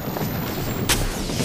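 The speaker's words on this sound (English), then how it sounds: "Airstrike." Airstrike explosions in Apex Legends, heavy rumbling booms layered over continuous low roar, with one sharp blast cracking out near the end of the short burst.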